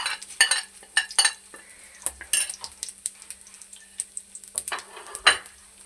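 Cumin and fenugreek seeds frying in oil in a pan for a tomato curry, with sharp spoon scrapes and clinks against the metal pan over a soft background sizzle, coming in irregular bursts up close.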